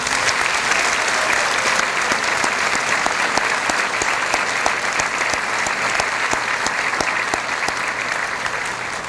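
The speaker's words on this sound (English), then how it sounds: "I ask that you join me in applause to acknowledge their hard work and their many accomplishments" A large commencement crowd applauds the graduating class of a school of dental medicine, sustained dense clapping filling a big hall and slowly tapering toward the end.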